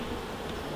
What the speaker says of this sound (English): Looking down here, I can see that the bees are very still